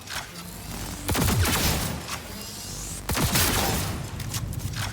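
Heavy gunfire during a firefight against miniguns in the video game Cyberpunk 2077, dense bursts of rapid shots and booming impacts rolling on loudly with brief lulls between volleys.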